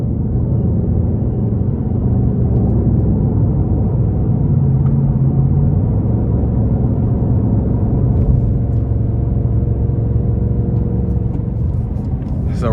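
Modified 2025 Ford Mustang Dark Horse 5.0 V8 in sport mode, a steady deep engine rumble and drone heard from inside the car, loud and continuous throughout with no talk.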